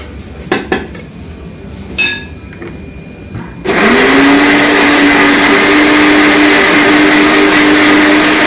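Dishes and utensils clatter for a few seconds, then a blender kicks on abruptly and whirs loudly and steadily, blending dragon fruit with milk in a continuous high motor drone that runs to the end.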